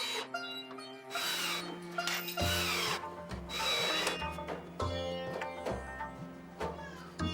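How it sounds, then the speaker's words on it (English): A power drill runs in several short bursts, pre-drilling and driving screws to fasten a 3-inch caster wheel with a washer onto a plywood work table, each whir rising and stopping in turn, close up, with no talk. "After pre-drilling, I attach the caster wheel with some washer and screws."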